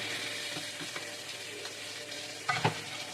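Ribeye steak and onions fry in a hot pan with a steady sizzle, broken by a few soft stirring and scraping sounds and a brief louder clatter near the end.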